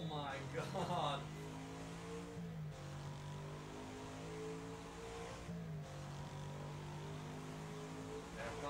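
Car engine in a driving video game, humming steadily at a low level with a couple of brief revving shifts, while people talk over it.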